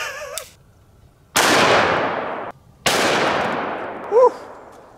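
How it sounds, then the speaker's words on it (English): Two loud revolver shots from a 500 Linebaugh firing Buffalo Bore 435-grain hard cast rounds, each a sharp blast with a long ringing decay, about a second and a half apart, plus a brief faint squeak near the end. "First up is the 500 Linebaugh, and we're going to be using some buffalo bore ammunition."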